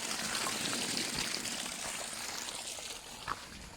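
Rust-tinted water pours steadily from the outlet of a concrete biosand filter, a continuous close splashing trickle heard alone.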